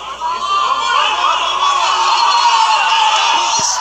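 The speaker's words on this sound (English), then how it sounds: "The crowd goes wild over here." Loud, continuous crowd roar and shouting at a live jiu-jitsu fighting match, sustained without break as the action heats up.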